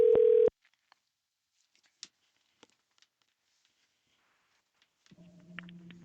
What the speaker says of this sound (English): Let's get Ron on the line right now.